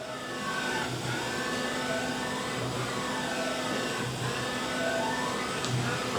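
A 2015 Doosan DNM-400 II vertical machining center moves its axes and runs its spindle, a steady quiet whir with soft whining sweeps that rise and fall about every second and a half.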